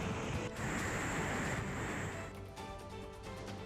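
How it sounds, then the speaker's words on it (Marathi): Water discharges through four open gates of Radhanagari dam into the riverbed, a steady broad rushing roar heard from nearby, with the sound holding constant throughout. "राधानगरी धरणाच्या ठिकाणचे दृश्य, ज्यामध्ये 4 दरवाजांमधून आता नदीपात्रात पाण्याचा विसर्ग सुरू आहे"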